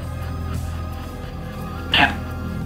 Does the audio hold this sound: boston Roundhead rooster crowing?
no